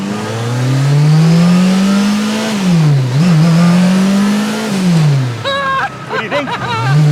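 Street-legal Group B Lancia Delta S4, turbocharged and supercharged, accelerating hard: its engine climbs loud and close, dips at a gear change, climbs again, then breaks into choppy, stuttering revs near the end.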